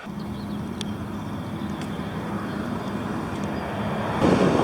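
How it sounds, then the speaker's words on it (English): A pusher boat's steady, low engine drone rumbles continuously as it pushes four barges against a river current in the Netherlands, with wind and broadband noise that swells louder near the end. "Nice engine, pushing 4 barges against the current."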